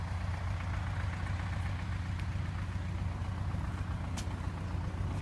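A tractor runs steadily while spreading saltpetre fertilizer across a field. Its engine gives a constant low, rumbling drone at moderate level, with no talking.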